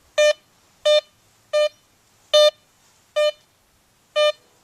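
A metal detector sounds six short, clear tonal beeps at an uneven pace as it sweeps over round iron buried in sand, with near silence between each one.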